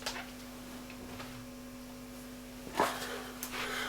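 A Laney guitar amp hums with a steady low electrical drone throughout, with a few faint clicks and a brief rustle on top.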